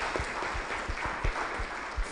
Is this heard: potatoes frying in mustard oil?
no